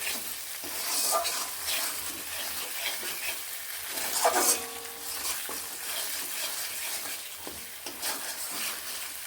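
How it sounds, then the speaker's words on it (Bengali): Spice paste for a stripped dwarf catfish curry is stirred and fried in oil, giving a steady close sizzle broken by irregular scraping and clattering strokes of the spoon, with no voices. "মশলাটি থেকে বেশ তেল ছাড়তে শুরু করেছে এবার আমার প্রায় মশলা কষানো হয়ে এসেছে"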